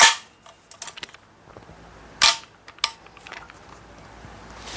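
An airsoft AKMN carbine being test fired indoors: a few sharp, snappy metallic cracks spaced irregularly over a quiet background, loud and close with no talking.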